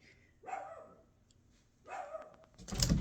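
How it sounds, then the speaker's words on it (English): A dog barks twice in separate bursts from a short distance, with a quiet pause between them, followed by a loud rustling clatter close by. "What are you barking about?"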